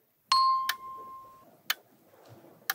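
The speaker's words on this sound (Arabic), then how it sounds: "ضغطت على الجرس، أجب." A team presses the answer bell in a Quran quiz competition, giving one bright ding that rings out for about a second, followed by a few sharp clicks.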